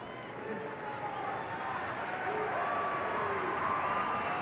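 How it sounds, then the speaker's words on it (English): An arena crowd at a curling match at Sask Place keeps up a steady, broad roar of cheering and encouragement from start to finish, a dense wash of many voices with no single shout standing out. "the crowd here at Sask Place giving a little encouragement"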